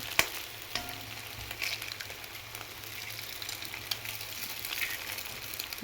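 Onions are stirred and fried in a pan for chicken noodles, giving a soft, continuous sizzle with a few light spatula knocks, heard close and without speech.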